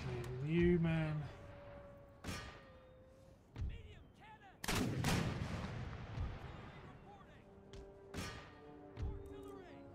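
Mortar fire in an Empire Total War battle: a series of sharp, booming blasts and thuds scattered irregularly over ten seconds, some near and loud, others fainter, with occasional talk between them.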